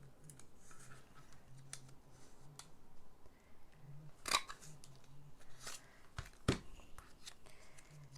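Scissors snip through paper in a card-making craft class, a few quiet crisp cuts spaced apart, with two sharper snips standing out against faint room noise.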